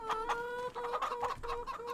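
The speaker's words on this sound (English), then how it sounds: "we're just shy of 900 chickens in this pen" Dense flock of about 900 chickens clucking together in a pen in Farming Simulator 25, a steady overlapping chorus of short clucks with no voices.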